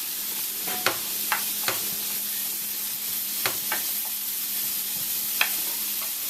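Mushrooms sautéing in oil in a pan, giving a steady, moderately loud broadband sizzle with a few sharp clicks and scrapes scattered through it.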